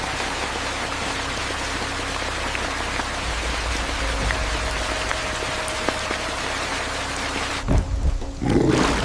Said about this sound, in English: Lightning tore the sky and rain turned paths to rivers.